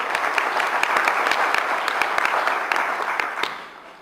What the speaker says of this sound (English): Please a round of applause for Laura Washington.